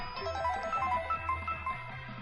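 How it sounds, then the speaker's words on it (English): A chime announcement in the video game Danganronpa V3 rings out as a short sequence of bright bell-like tones over a steady musical backdrop, fairly soft and with no talking. "Ding dong dong ding!"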